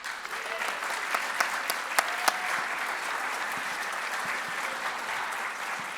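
Sustained applause from a large audience at the NAMM 2025 tribute event honoring Quincy Jones, fairly distant and even, with a few sharper individual claps standing out and faint murmuring underneath.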